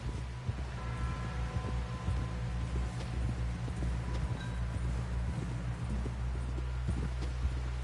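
Horse hooves clip-clopping at a walk in the video game Red Dead Redemption 2, a steady rhythmic patter close by under a low droning ambient hum.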